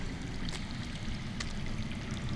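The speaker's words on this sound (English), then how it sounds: "That's water. I hear water. From underground." Running water trickles underground in the Game of Thrones video game, a soft continuous flowing murmur with faint drips, heard alone without voices.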